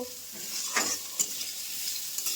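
Rice frying in a pan in a home kitchen, a soft steady sizzle broken by a few scraping stirs, quiet and close with no talking.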